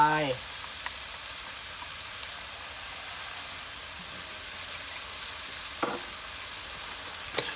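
Tamarind water poured into a hot frying pan while cooking northern Thai nam prik ong, a quiet steady sizzle with a few sharp stirring clinks and scrapes.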